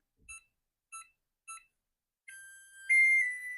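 Three short, evenly spaced electronic beeps from a kitchen oven signal it has reached preheat temperature while baking a lemon yogurt loaf, then a longer sustained tone follows, clear and close in a quiet room.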